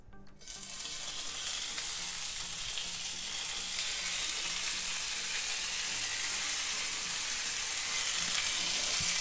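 Anticuchos meat fries in hot oil on a stove with a loud, steady sizzle. The sizzle starts suddenly as the meat goes in and stays constant and close throughout.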